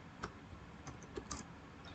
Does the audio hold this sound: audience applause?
no